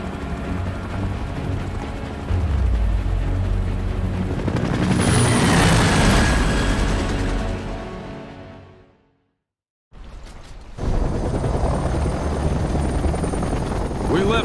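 Helicopter in the Xbox 360 game Gears of War: Judgment, a loud rotor roar that rises and thunders, cuts abruptly to silence, then returns with a whining engine tone, voices occasionally heard over it.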